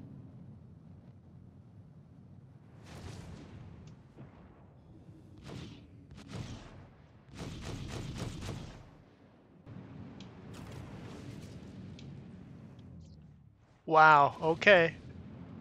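Star Citizen space combat in which an Idris ship is destroyed by railgun fire from another Idris: deep rumbling blasts and broad bursts, ending with a sharp, loud impact near the end, with a person briefly reacting.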